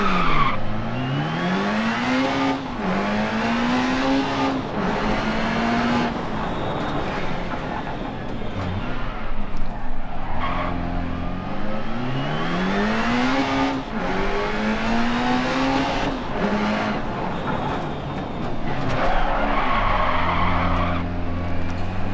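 Rally car in the Dirt Rally video game driving hard, its engine revving up and down in repeated rising sweeps while tires skid and scrabble on loose surface, loud and continuous with no talk.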